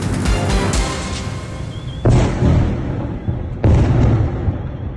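Explosions from a night missile strike on a military airfield in Taganrog: two heavy booming blasts a second and a half apart, each trailing off in a long rumble after an opening stretch of noisy clatter.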